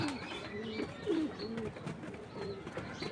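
Repeated soft cooing from pigeons close by, short warbling calls rising and falling, with faint chirps in the background.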